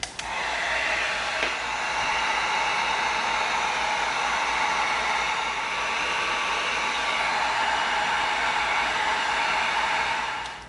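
A heat gun seals beveled EVA foam edges with a steady, loud, even blowing roar that runs unbroken for about ten seconds with no talk.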